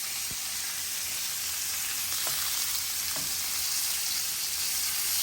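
Small pieces of bacon frying in a pan for Cuban fufu, a loud, even, continuous sizzle close up, with faint stirring taps and no talking.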